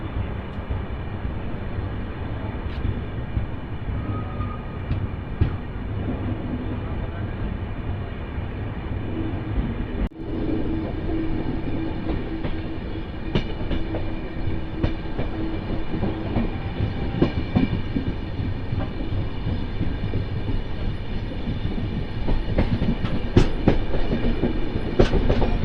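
A passenger train running just after leaving Kannur railway station in Kerala, with a continuous rumble and rhythmic wheel clatter heard from inside the coach, steady and fairly loud throughout, with no voices.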